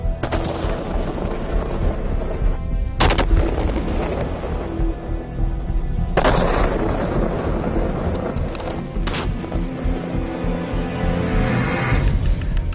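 Police snipers fire rifles in unison at eggs 80 metres away on a training range, with three sharp, loud volleys spaced a few seconds apart over a steady rumbling background.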